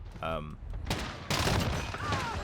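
Fennec submachine gun in Call of Duty: Modern Warfare firing in rapid bursts, up close and loud, with a person talking between and over the shots.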